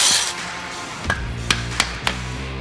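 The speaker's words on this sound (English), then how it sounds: "make sure you use a dead blow hammer" A dead blow hammer strikes the sides of brake pads to seat them in a caliper during an Early Bronco front disc conversion: four sharp, close knocks, spaced irregularly, over a quiet hum.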